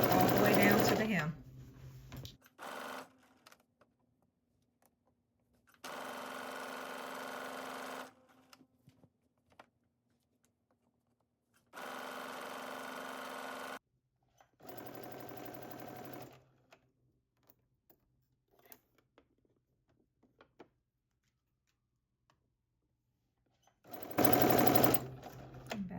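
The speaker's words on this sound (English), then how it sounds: "stitch ½ inch seam allowance all the way down to the hem" A sewing machine sews the leg seam of sweatpants in a few separate runs of steady stitching, separated by long quiet gaps. A voice talks at the start and again near the end, between the runs.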